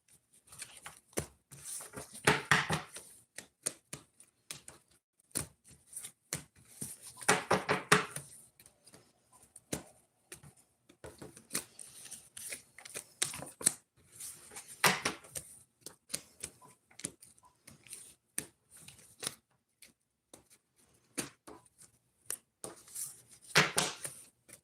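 A deck of tarot cards is shuffled by hand in recurring bursts, crisp riffling and slapping that swell and fade every few seconds, close and quiet with pauses between.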